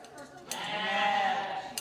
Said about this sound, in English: It might get loud. A few loud baas,